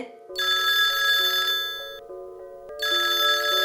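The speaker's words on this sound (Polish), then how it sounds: "Nie, tylko nie telefon, jak w horrorze!" A telephone rings with bright electronic trills in two bursts separated by a short pause, close and fairly loud with no talking.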